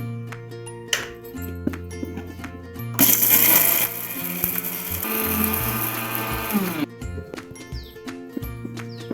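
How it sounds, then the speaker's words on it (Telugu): A mixer grinder grinds skin-on peanuts with bitter gourd and spices, starting with a loud harsh burst and then settling into a steady whirring run before stopping, all under background music. "ఇవన్నీ కలిపి మిక్సీ పెట్టేసుకుందాం."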